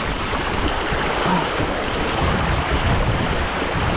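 High-tide waves wash ashore at Lumutan, General Nakar, making a steady, loud roar of surf and rushing water with wind buffeting the microphone throughout.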